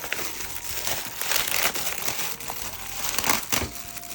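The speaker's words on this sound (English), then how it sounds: "Let's cut the bag open." A decent-sized plastic bag is cut open close by, giving continuous crinkling and rustling of plastic with a few sharper crackles scattered through it; no one speaks.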